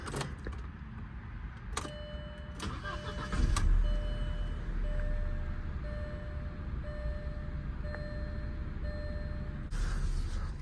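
A 1999 Audi A4 1.8T with a 5-speed manual cranks briefly and catches, then settles into a steady, close idle rumble while a repeating electronic chime pings over it.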